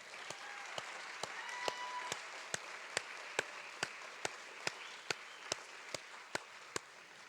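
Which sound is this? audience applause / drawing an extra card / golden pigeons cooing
audience applause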